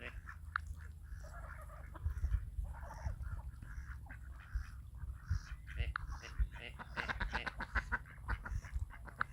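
Ducks quack in short, scattered bursts at close range, mixed with soft pecking and chewing noises over a low background rumble.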